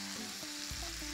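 Tomatoes with red chili flakes sizzle steadily in a hot pan while being stirred, a close, continuous frying hiss with a few light scrapes and no talking.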